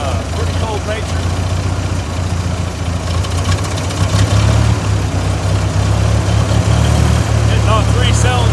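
A 1955 Ford 660 tractor engine idling roughly after a cold start, running on three cylinders with an uneven low rumble, steady and close, with a person talking over it.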